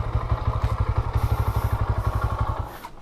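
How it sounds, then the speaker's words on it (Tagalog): A Bajaj Pulsar N125 motorcycle idles with a close, steady rapid thumping beat after the side stand goes down, then the engine sputters and dies within about three seconds, leaving it quiet. "Side stand, then wait natin mamatay yung motor."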